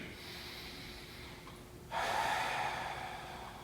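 Someone holding a deep squat breathes audibly: a quiet, hissy stretch of air, then a sudden louder, rougher breath that carries on steadily to the end.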